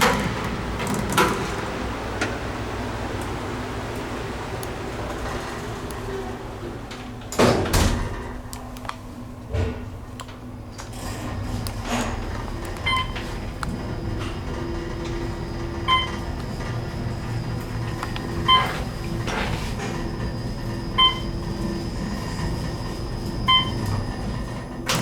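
An Otis Series M2 traction elevator hums and rumbles through a ride, with a loud door thud near the start and a series of faint, evenly spaced chimes later, all without talk.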